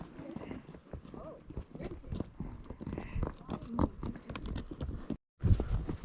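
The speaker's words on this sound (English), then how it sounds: "Your horse is named Monty." A ridden horse clip-clops along during a camping trip in the Drakensberg, steady hoof thuds and clatter heard close, overlapping with people chatting, with a brief silent gap near the end.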